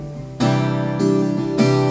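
An acoustic guitar fitted with D'Addario XS strings strums three times, each chord sustaining fully into the next, close and fairly loud with no talking.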